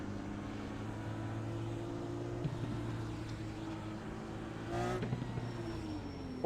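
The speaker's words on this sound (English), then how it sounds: "Hopefully the audio is correct as far as, the sound of the engine" IndyCar race car engine in the iRacing game at Circuit of the Americas, a steady droning engine hum with a brief rising rev burst near the end, heard alone at moderate volume.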